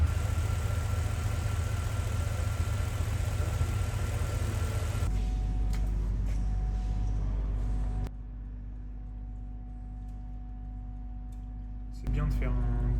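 A Mercedes ML 63 AMG engine idles steadily during an engine flush with a low continuous rumble, the tone shifting slightly partway through, with no one speaking.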